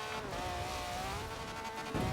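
A Ferrari 575M in Forza Horizon 4 loses control, its engine droning steadily while the tires squeal and skid in a continuous, loud smear of noise.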